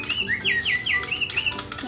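A pet bird gives a rapid series of bright, rising chirps and whistles, close and clear, about eight calls in two seconds with a soft background.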